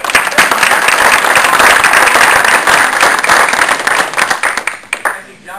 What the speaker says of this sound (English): a big round of applause for our friend